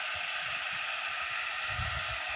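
A quick-dry blow tool runs in a steady, faint airy hiss with a low fluttering rumble underneath as it dries a pasted transfer, without any talk.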